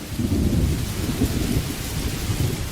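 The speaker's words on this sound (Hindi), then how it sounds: "बारिश अभी भी जोरों से हो रही थी। रह रह के कड़कती हुई बिजली के साथ गरजते हुए बादल" Heavy rain pours down steadily during a storm, with deep rolling thunder rumbling beneath the constant dense hiss of the downpour.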